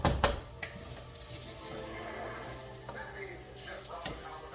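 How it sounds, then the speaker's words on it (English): Kimchi fried rice is stirred and scraped around a pan on an electric stove, with a steady soft sizzle and occasional utensil clinks against the pan while a voice talks over it. "keep moving the rice around"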